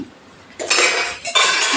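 Dishes and utensils clatter and clink in two busy bursts after a quiet start, close and fairly loud, with no voices.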